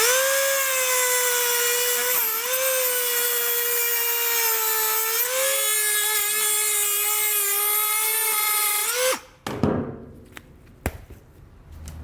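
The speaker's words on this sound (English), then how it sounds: "Diagram and the instructions suggests that we cut out this area, obviously on each end of it." A power tool cutting out part of a plastic car air dam gives a steady, loud, high-pitched whine for about nine seconds, then stops abruptly, followed by a few sharp clatters and handling noises.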